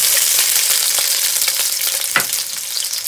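Onion hits hot oil in a pan for a duck curry, a loud, steady hiss and crackle of frying close by, with faint stirring scrapes running through it.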